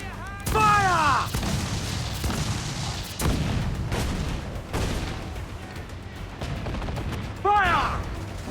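Heavy ship cannon fire in Assassin's Creed IV: Black Flag, several booming blasts spaced irregularly, loud and close, with shouted voices and rising whistles around the volleys.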